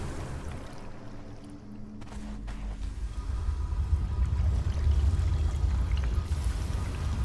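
Steady water flowing through a room in the Conan Exiles game, a broad rushing wash that swells louder midway and holds steady, with faint game sounds underneath.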